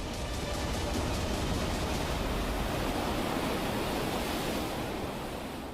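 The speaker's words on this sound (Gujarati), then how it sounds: "ભારે વરસાદથી ડેડિયાપાડાના ગારદા અને મોટા જાંબુડા વચ્ચે આવેલી નદી બે કાંઠે વહેતી થઈ" A river in flood after heavy rain in the Dediapada area of Gujarat's Narmada district, a loud continuous broadband rush of water roaring steadily for several seconds, close and unbroken, with no speech.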